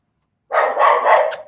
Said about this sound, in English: he's barking at what you're saying